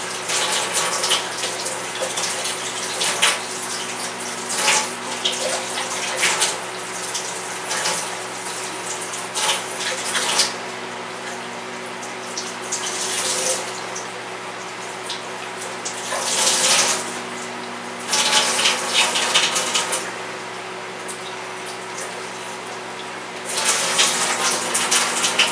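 Warm water runs from a tap into a basin for washcloths, a continuous loud gush with rising and falling surges and splashing, alone with no talking.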